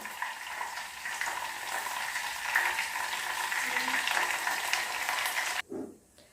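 Shallots and curry leaves fry in hot oil in a pan for a Kerala-style mutton bone soup, giving a steady, dense sizzle that holds close and even before cutting off abruptly near the end.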